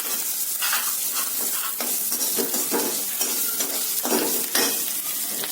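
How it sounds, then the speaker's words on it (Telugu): Onions and tempering spices sizzle in a hot pan while a spoon stirs and scrapes in a steady, repeated rhythm, close and fairly loud. "ఉల్లిపాయలు ఈ తాలింపు అంతా కొంచెం వేగాలి"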